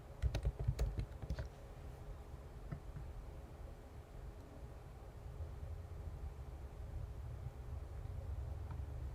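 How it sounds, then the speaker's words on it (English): Keys clatter on a computer keyboard as a search query is entered, a quick burst of clicks at the start, then sparse taps over a quiet room hiss, fairly close and soft. "So I'm going to go ahead and type that in."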